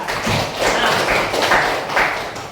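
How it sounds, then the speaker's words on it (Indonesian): Students in a classroom clap for a classmate, a brief burst of dense applause from a small group, fairly loud and close. "Aplaus untuk kawan kita."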